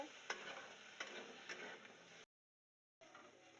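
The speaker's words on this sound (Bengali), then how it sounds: "ডালটা সাঁতলে নিচ্ছি।" Boiled lentils tempered in a hot pan, a close steady sizzle broken by regular stirring knocks about every half second, stopping briefly then resuming.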